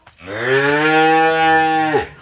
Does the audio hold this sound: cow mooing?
yes